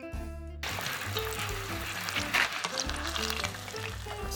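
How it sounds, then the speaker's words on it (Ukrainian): Batter-coated pieces crackle and sizzle steadily in hot vegetable oil in a sauté pan, a continuous frying hiss with soft music playing underneath. "Розігріваємо сотейнику рослинну олію, занурюємо в шматочки в кляр та смажимо до готовності"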